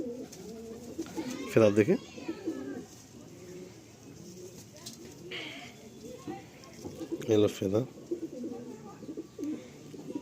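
Chotiyal pigeons coo in two clear throaty bursts close by, with someone talking throughout.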